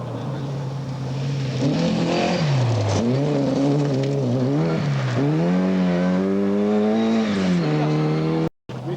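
A rally car at the 1997 Tallinn EK Rally revs hard and close, its engine pitch rising and falling through repeated gear changes in a loud, continuous run before cutting out briefly near the end.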